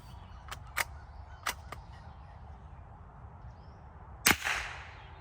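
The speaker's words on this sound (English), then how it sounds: "I guess we're gonna fire 3 of them through the chronograph and see what we can get." Three .22 LR rifle shots fired through a chronograph using Lapua ammunition, each a sharp crack spaced about a second apart, followed later by a louder, nearer report with a brief ringing tail.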